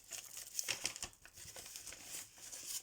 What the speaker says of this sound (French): je la remets dans ton enveloppe